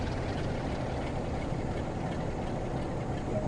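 A Class 31/47 diesel locomotive in the Train Sim World 2 video game rumbles steadily with a low engine drone under light throttle, constant and fairly close throughout.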